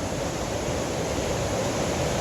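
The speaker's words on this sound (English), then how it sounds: "Hopefully I don't get swept away from this waves coming up." Steady, dense roar of ocean waves washing up a beach at high tide, close and continuous with no breaks or voices.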